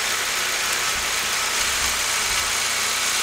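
A 2008 Saab 9-3 2.0T engine with a random misfire idles in a steady, close hiss-laden drone, with faint low thumps breaking the otherwise even running.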